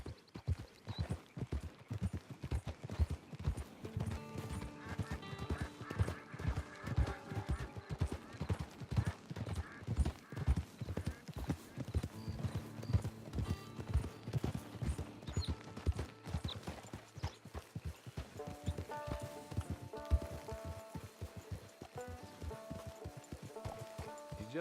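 A horse's hooves clip-clop in a steady, rhythmic gait in the online mode of Red Dead Redemption 2 on PS4, the beats close and continuous over a background music score.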